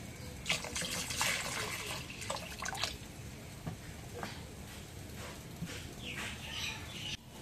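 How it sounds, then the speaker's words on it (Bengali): Water runs and trickles into a pot of lentil dal with potatoes and duck eggs, a soft, steady pouring with a few splashy bursts, faint and close with no voices. "পানি দেই।"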